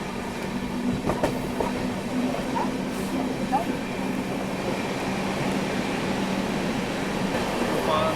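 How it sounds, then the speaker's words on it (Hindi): Mumbai–Nagpur Duronto express train running at high speed at night, a steady loud rolling roar with rail rumble and faint clatter throughout, heard from close by. "और ये कौन ओवरटेक करके जा रहा है भाई, वो भी जबरदस्त रफ्तार में।"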